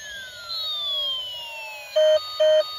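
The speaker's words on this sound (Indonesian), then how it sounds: "Jadi sirene ambulans itu seperti ini." A toy ambulance siren sweeps downward in a wailing tone, then gives two short, steady electronic beeps, close and loud.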